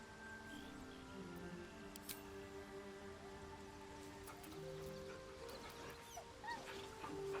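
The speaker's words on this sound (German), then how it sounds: "Kann den Hund unendlich häufig petten, oder?" A dog whimpers softly while being petted in the video game Baldur's Gate 3, faint whines and yips over a steady rain-like ambient bed, no talk.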